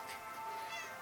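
A cat gives a single short, drawn-out meow, close and clear, with no talking over it.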